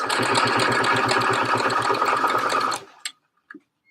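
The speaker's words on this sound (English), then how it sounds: "I'm just going to baste all the way along this hem." Sewing machine basting a jersey hem runs in a steady, close rhythmic whir of needle strokes for a few seconds, then stops, leaving a couple of faint clicks.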